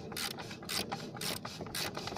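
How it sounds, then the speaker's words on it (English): Ratchet wrench with a 32mm socket turning the oil filter canister on a Ford Territory diesel, a series of rapid metallic clicking bursts in a steady rhythm, close and fairly loud with no talking. "Now to remove the canister, we need a 32mm socket."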